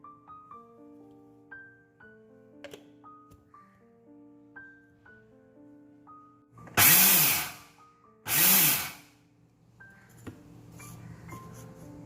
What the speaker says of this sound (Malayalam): നമുക്കിത് മിക്സർ ഗ്രൈൻഡർ ഉപയോഗിച്ച് നന്നായി പൊടിച്ചെടുക്കാം